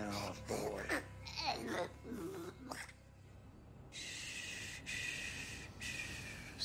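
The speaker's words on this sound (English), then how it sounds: "Slow your breathing, Blazkowicz." Heavy breathing of the player character in the video game Wolfenstein 2: The New Colossus, a few close, raspy breaths and snorts after voices, followed by a steady hiss of game ambience.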